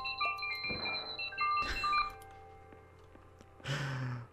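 An alarm in the video game Superliminal gives repeated high electronic beeps and tones, with several louder bursts of sound mixed in, fairly faint overall and with no talk.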